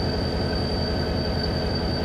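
A 1950s Aerotrain runs on the Horseshoe Curve between Johnstown and Altoona in Train Simulator, giving a steady, loud rumble with rhythmic wheel clatter and a thin high whine throughout.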